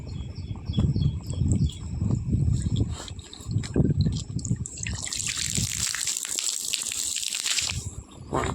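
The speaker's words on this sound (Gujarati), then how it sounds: "અત્યારે આપણે પાણી ચાલુ કરી દીધું છે તો પાણી છાંટી દઈએ ગાડી" A hose pipe sprays water over a car at a shop, a steady hiss and splatter that swells into a bright, continuous gush partway through, close and fairly loud, with occasional birdsong in the background.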